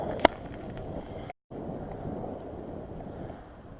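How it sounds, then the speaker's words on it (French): Strong wind buffets the microphone during a road bike ride, a constant rough low roar with a sharp knock near the start and a brief dropout partway through. "le vent est quand même assez costaud."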